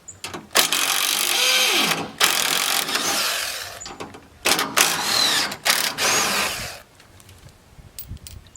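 Bolts coming out of a Chinese mini excavator under a powered driver, several long whirring bursts separated by short pauses, close and fairly loud, then quieter scattered clicks at the end.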